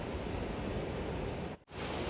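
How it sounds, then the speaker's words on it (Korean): Sea waves break on the rocks of a shoreline along the Oeongchi coastal walkway in Sokcho, a dense, continuous roaring wash of surf close by that cuts out abruptly for a moment before resuming. "해구 바위 위쪽으로 하얗게 부서지는 파도가 멋있습니다."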